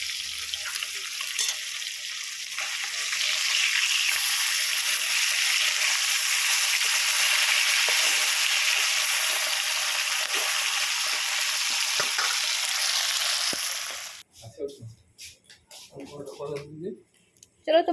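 Small fish fry in a pan with a loud, steady sizzle that holds for most of the stretch, then cuts off abruptly as close voices talk.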